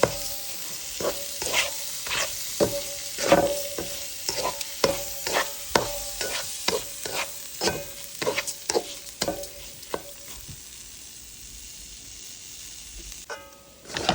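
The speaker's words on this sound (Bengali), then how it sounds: "এখন এর ভিতরে দিয়ে দিলাম পোলাওয়ের চালগুলি সুন্দরভাবে এটাকে নেড়ে চেড়ে" A spoon scrapes and stirs repeatedly through rice grains frying in a pan over a soft sizzle, the strokes irregular, then stopping for a few seconds before resuming.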